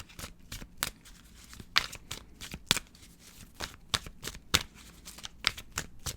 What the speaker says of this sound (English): Let me pull some tarot here.